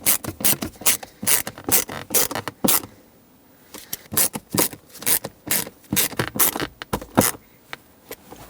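A ratchet drives screws into the plastic center console of a 2007-2014 Chevrolet Silverado 2500HD. It makes repeated loud, close clicking bursts in quick strokes, with a brief pause before the ratcheting resumes.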